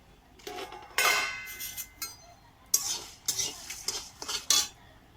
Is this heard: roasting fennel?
yes